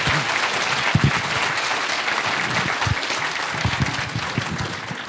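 An audience at the 36th annual Ozark Mountain UFO Conference applauds to welcome a speaker, with steady, dense clapping that fills the whole stretch without a break.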